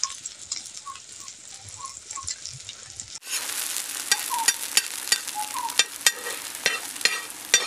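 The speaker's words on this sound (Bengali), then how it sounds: "উল্টে পাল্টে ভালো করে ভেজে নেব।" Eggplant omelette mixture frying in oil and being flipped in a pan, a close, crackling sizzle that gets louder midway, with sharp ticking pops and spatula clatter.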